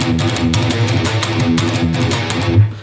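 Electric guitar chugging a shortened E-section riff, a dense, steady rhythmic pattern of palm-muted notes played loud and close with no talking.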